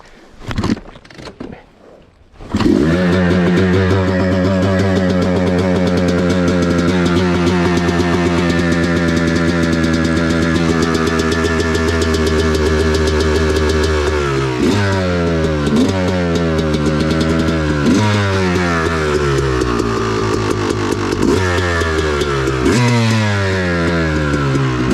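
An off-road dirt bike on an OHV cycle trail starts up after a short quiet moment, then a loud, close, steady engine drone follows, with repeated revving rises and drops as the rider moves along the trail.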